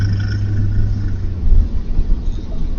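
A voice imitates a truck engine with a low, steady rumbling drone that wavers and roughens toward the end, loud and close with no other sounds.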